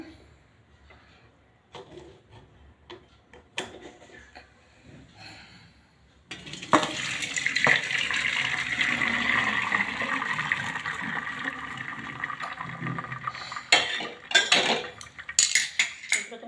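Hot water and cooked pea rice poured from a pot into a metal strainer in a home kitchen, a sustained rushing splash after a few soft clinks of utensils, ending with sharp metallic knocks.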